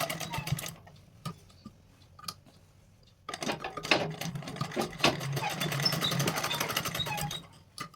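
A home sewing machine stitches fabric in a home boutique: short clattering bursts at first, a pause, then a longer steady run of rapid mechanical stitching close to the mic.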